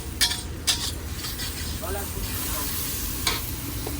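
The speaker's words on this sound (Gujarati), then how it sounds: "હવે તેને પણ હલાવી લેશું ધીરે ધીરે, પ્રોપર મિક્સ કરી દેશું એને." Chutney being stirred into a moong pulao mixture in a hot pan, a continuous sizzle with several sharp metallic clinks of the spoon against the pan and faint background voices.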